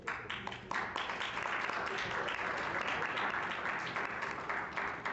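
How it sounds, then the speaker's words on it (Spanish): A crowd applauds and cheers as a speaker is brought onto the stage at a talk event, steady clapping with some scattered voices mixed in, heard at moderate distance and fairly quiet overall. "Te agradezco la porra, los aplausos."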